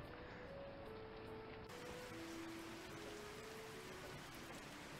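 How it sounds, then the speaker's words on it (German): Rain falls in the video game Kitaria Fables as a steady, even hiss of downpour, with faint melodic game tones drifting over it throughout. "Es regnet."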